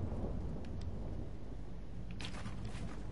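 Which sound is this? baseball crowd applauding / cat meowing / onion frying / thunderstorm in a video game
thunderstorm in a video game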